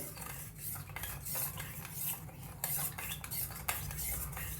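A spoon stirs sugar into milk in a pot, making rapid, repeated metallic clinks and scrapes against the sides in a busy, steady rhythm, close and fairly quiet, with no talking.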